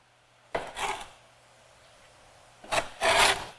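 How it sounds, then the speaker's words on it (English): Knife blade scraping chopped cilantro across a wooden cutting board, two short rasping strokes separated by a pause, close and moderately loud. "I'm just scraping everything off of the cutting board"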